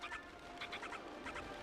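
Chicken-like creatures in Zelda: Twilight Princess, in the City in the Sky, give several short, bright clucking calls in quick bursts, fairly close, over a steady game background hum.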